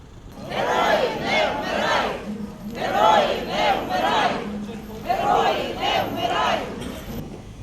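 A crowd of mourners in Mykolaiv shouts a chant in unison three times to greet a hearse at a soldier's funeral, each loud collective cry separated by a short pause.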